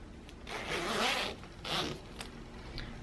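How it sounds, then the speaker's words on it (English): A zipper on a reversible Victoria's Secret PINK sherpa jacket is drawn up in two or three short rasping pulls, close and fairly soft, with no talk over it. "let's zip it up."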